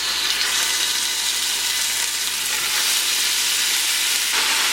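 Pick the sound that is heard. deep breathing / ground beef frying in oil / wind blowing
ground beef frying in oil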